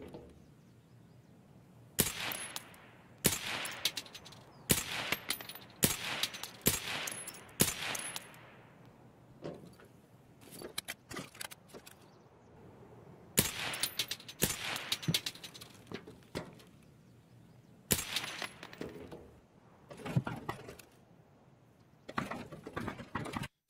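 Gunfire in Escape From Tarkov: scattered sharp single shots and short quick bursts crack out over about twenty seconds, some loud and close, others fainter, with quiet gaps between them.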